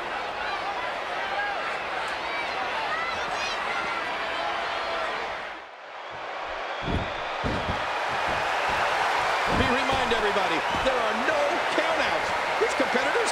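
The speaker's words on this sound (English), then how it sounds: "Listen to this crowd. Listen to this response." A large video game wrestling arena crowd from WWE 2K14 roars and cheers continuously, briefly dipping before swelling again, with loud thuds and shouts over the din.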